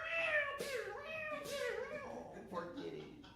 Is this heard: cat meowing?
yes